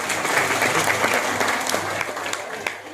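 A seminar audience gives dense, lively applause for the guests. The clapping holds steady across the clip and thins slightly toward the end.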